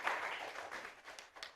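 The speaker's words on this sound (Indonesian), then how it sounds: "Tepuk tangan dong tadi buat Yesa juga ya." A small group of students in a university classroom teaching session briefly applaud, soft and fairly distant clapping that thins out with a few separate claps near the end.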